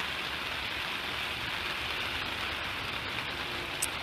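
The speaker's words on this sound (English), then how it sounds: "as you can hear, it's raining very heavily" Heavy rain drums on a polytunnel roof in a vegetable grower's garden in March, a dense, steady wash of patter heard from inside, constant and loud throughout, with no talk.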